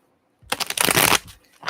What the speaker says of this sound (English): Shuffle, shuffle, shuffle. I swear I'm shuffling these.